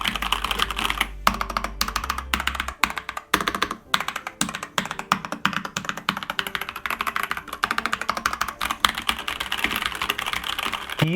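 Typing on a Marvo Monka Storm KG991W mechanical keyboard, a rapid, close, continuous run of clicky keystrokes with no voices.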